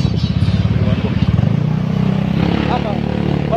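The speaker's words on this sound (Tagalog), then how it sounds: "Naning Kamot, tukuha ng motor." A motorcycle engine idling and revving nearby, its low throbbing drone running the whole time under a voice talking over it.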